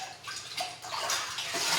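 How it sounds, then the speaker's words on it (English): Water splashes and trickles in a couple of bursts as a wet sponge is wrung out during a rinseless car wash, near and moderately loud. "wring it out until it's just dripping"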